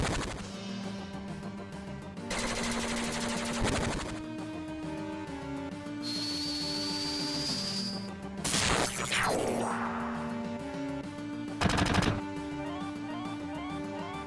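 Barrett fires his gun in the 1997 role-playing game Final Fantasy VII: several short, harsh bursts of shots and a crashing hit break over looping battle music.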